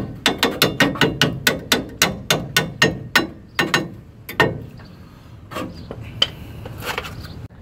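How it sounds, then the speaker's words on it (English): A ball peen hammer taps metal brake caliper hardware on a Ford F-150 in a quick run of about fifteen sharp, close strikes, then a few scattered lighter knocks and clicks. "I'm just going to give it a little tap back into the ball peen."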